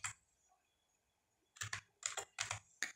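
Keystrokes on a computer keyboard as a command is typed into AutoCAD 2022, a quiet pause followed by a quick run of about six crisp, close clicks with no talking.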